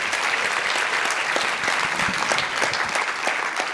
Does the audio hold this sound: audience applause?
yes